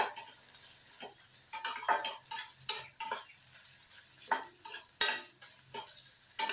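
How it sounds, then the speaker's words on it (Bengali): A spoon stirs sliced onions and ginger-garlic paste frying in a pan for rohu fish dopiaza, a series of close, sharp scraping strokes over a soft, steady sizzle. "একটু মিশিয়ে নেব, মিনিট খানেক ধরে মিশিয়ে নেব, যাতে পেঁয়াজের সাথে ভালোভাবে মিশেও যায়"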